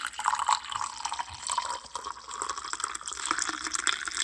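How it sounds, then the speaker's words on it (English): Coffee pours steadily into a cup, a continuous splashing trickle with a bright, gurgling quality, no voices present. "We're going to pour coffee"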